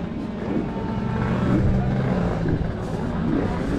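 A motor engine roars steadily and loudly throughout, its pitch shifting slightly as it pushes on, with a noisy, rumbling background.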